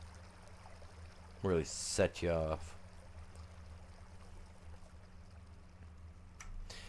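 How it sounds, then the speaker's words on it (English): Running water stream in the video game Farming Simulator 25, a steady soft trickling flow in the background with a low hum, while a voice talks briefly over it. "I'll stop so you can listen to the water for a minute."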